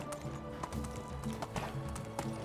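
In the Medieval Dynasty video game, a donkey's hooves clip-clop at a steady walking rhythm. The footfalls are fairly quiet and evenly spaced, with no talking.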